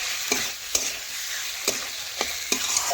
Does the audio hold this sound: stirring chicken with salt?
yes